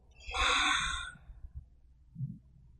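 A long, breathy exhale pushed out through the mouth during a yoga stretching session, soft and close, swelling then fading over about a second, followed by faint rustling and low room noise.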